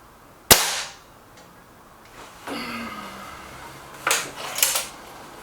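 A single sharp, close crack from an air rifle firing a Norma pellet, followed by fainter metallic clicks and rattles as the gun is handled.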